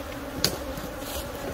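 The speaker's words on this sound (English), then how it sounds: "we're going to catch all the flying bees" Flying honey bees buzz in a steady, dense drone during hive splitting in a canola field, close and continuous, with one brief sharp tick partway through and no talking.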